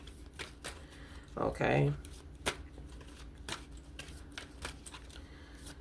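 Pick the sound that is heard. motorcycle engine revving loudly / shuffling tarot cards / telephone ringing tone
shuffling tarot cards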